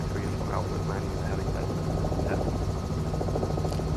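A CowanSim R66 helicopter in the MSFS 2020 flight simulator comes in to land on a Sydney helipad, its engine and rotor giving a steady, dense whirring drone under a speaking voice.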